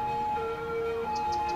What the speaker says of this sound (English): No idea what an ambulance is doing.